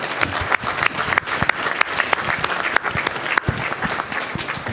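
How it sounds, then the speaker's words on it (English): At a board of education meeting, a room claps for kindergarten student Devontae; the applause is close and sustained, with distinct individual claps standing out in a steady patter. "So can we give him a round of applause?"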